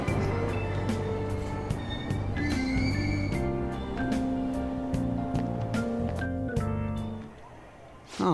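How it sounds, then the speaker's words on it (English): A layered Persona 5 Royal soundscape of a departing train, rumbling ambience with chimes and tones, steady and loud, fading slightly near the end. "Train doors are now closing."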